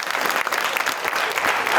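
A studio audience applauds during a New Year comedy show, a dense, steady burst of clapping lasting under two seconds.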